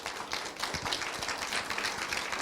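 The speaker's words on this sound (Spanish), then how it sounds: "Damos un fuerte aplauso, por favor." Audience applause at a business and human rights conference, steady dense clapping filling the whole short stretch at moderate level, no talk over it.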